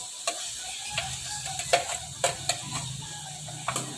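Onions go into a hot pan and start sizzling, a soft frying hiss broken by sharp ticks and clicks of stirring, close and fairly quiet.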